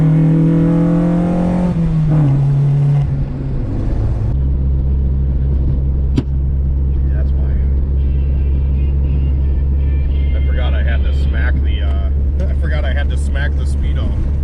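Engine of a JDM Honda Civic EK GSR hatch on cold concrete, a steady close droning rumble whose pitch climbs briefly early on and then holds, with faint voices underneath.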